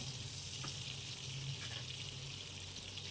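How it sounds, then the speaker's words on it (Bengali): Pumpkin pieces fry in a lightly covered pan, giving a soft, steady sizzle with faint bubbling that runs unbroken throughout. "একটু ঢাকা দিয়ে কুমড়োটা একটু ভেজে নেব।"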